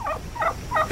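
A male fowl that has lost all its tail feathers calls in hot weather, giving three quick, close, loud gobbling bursts in an even rhythm with no talking.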